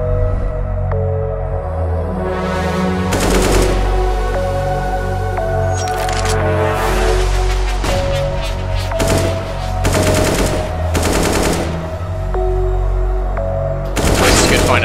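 Rapid bursts of automatic rifle fire from an AK in Counter-Strike: Global Offensive, loud and close, repeating in several volleys over steady game background sounds, no talk.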